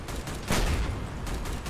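Auto cannon fire from a vehicle in the game Crossout crackles in dense, rapid bursts over a loud battle background, with a heavy impact about midway through.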